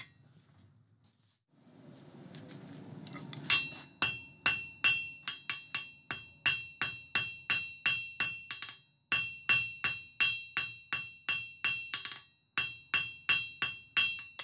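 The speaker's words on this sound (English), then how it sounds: "forging with the cross peen so we get an even spread on both sides" Steady rhythmic hammer blows ring out as a cross peen hammer forges hot metal on an anvil, spreading the taper for a Viking longship rudder. The ringing strikes come close and loud in quick runs, with short pauses between series.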